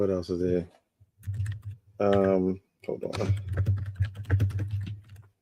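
Rapid clicking keystrokes on a computer keyboard patter close up in quick bursts, interspersed with a voice speaking between and over the typing.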